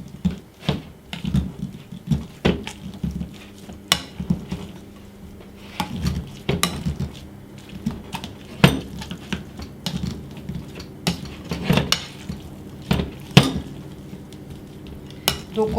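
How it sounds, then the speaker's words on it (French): Potato masher thumping and scraping through cooked potatoes in a pot, irregular knocks and metallic taps over a steady low kitchen background, no talking. "Et on vient écraser nos pommes de terre."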